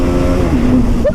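Engine of a motorbike riding fast on a road, a loud, steady close drone whose pitch shifts slightly, with a rider's voice briefly audible.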